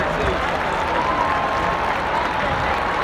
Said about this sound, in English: Big round of applause for our parachute team.